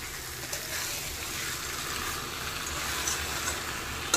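Vegetables and fried bori sauté with spices in a pan, giving a loud continuous sizzle and frying hiss with faint stirring scrapes, no talking.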